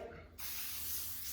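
A short hissing burst of spray from a can onto plastic wrap used to cover bread loaves, starting abruptly and holding steady at close range.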